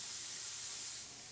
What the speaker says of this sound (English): I'm still spraying at about 10 psi